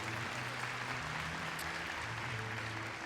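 A steady round of applause from the audience at a Crufts dog show presentation, continuous and even, with a low hum running beneath the clapping.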